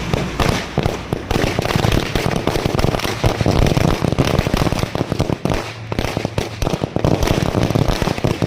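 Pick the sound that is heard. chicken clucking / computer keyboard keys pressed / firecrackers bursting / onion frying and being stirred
firecrackers bursting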